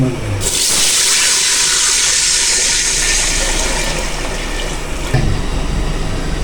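About 1.5 litres of water gushes steadily into a cooking pot, a loud continuous pour with splashing that runs for several seconds before a brief clunk near the end.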